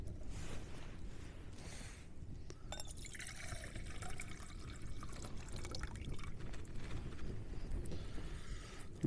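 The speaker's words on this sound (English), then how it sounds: "Let's just let that boil." Water heats toward a boil in a pot on a camping stove outdoors, a steady soft hiss and bubbling with faint drips and small knocks, close and continuous without speech.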